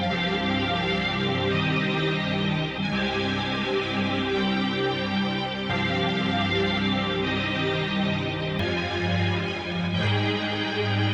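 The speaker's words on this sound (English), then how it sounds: "So now it's in the same order, but now it has a reverse effect." A reversed, pitched-down vocal sample plays in FL Studio as a dense, smeared tonal layer that drones on with no voices over it, shifting slightly every few seconds.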